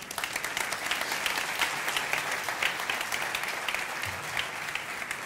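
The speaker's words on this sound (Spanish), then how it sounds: "Un aplaudiment per Sergi." An audience applauds to welcome Sergi at the start of a live comedy show, steady dense clapping that holds for the whole stretch at moderate volume with no talk over it.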